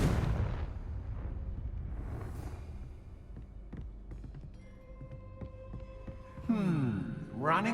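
A Confringo spell blast in Hogwarts Legacy lands as a loud, booming low-end impact that decays into a rumbling tail, followed by sparse magical tones and a rising, swirling whoosh near the end.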